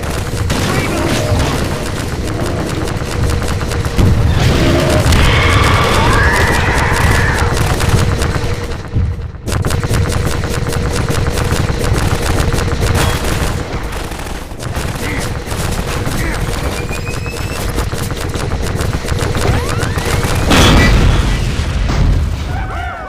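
Gunfire and explosions from the video game Half-Life 2 (Android), a battle against a Strider at the sawmill: dense, continuous shooting with booming blasts throughout, loud and close, with occasional voices in the mix.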